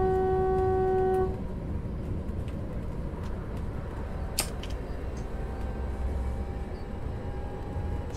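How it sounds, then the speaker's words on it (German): Electric FLIRT 1 multiple-unit train horn in the Zusi 3 train simulator, one loud steady blast lasting about a second over a low rolling cab rumble, then fading into continued running noise. "Hupen, sehr wichtig."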